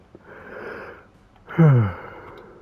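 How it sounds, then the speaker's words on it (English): A person lets out a yawn up close, a drawn-out voiced breath that swells and falls in pitch after a quieter stretch of breathy noise. "more like a yawn then."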